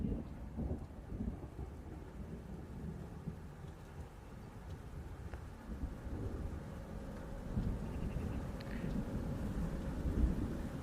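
A thunderstorm outdoors near a parked car, with low rolling thunder rumbles and a steady wash of rain throughout, swelling toward the end.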